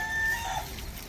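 Village chickens clucking, a couple of short faint calls over a quiet outdoor background with no talking.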